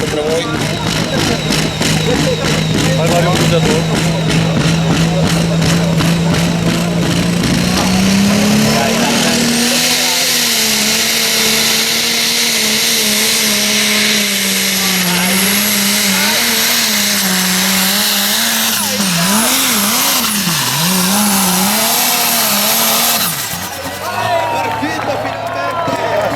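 A pulling tractor with a turbine engine screams at full power during a tractor pulling competition in Fiume Veneto, a loud sustained whine whose pitch climbs and wavers as it revs, with a commentator talking over it throughout.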